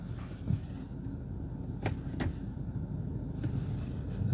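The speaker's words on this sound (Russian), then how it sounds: "Вот смотрите, двигатель работает." A 2018 BMW 520d diesel engine idles in a steady low rumble from inside the car, with a couple of brief clicks and knocks over the drone.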